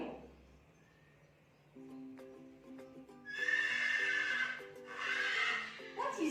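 A horse neighs in a rising, quavering whinny, fairly clear and close, with faint hoof clip-clop and quiet background before the call.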